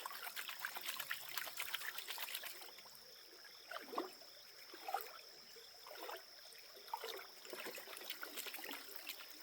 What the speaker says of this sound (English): And we wash all the lighter material like quartz and sand right off the top.